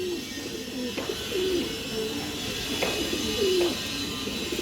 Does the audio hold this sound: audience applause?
no